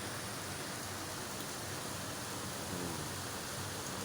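Heavy rain falls in Abu Dhabi as a steady, even hiss that fills the whole stretch without a break.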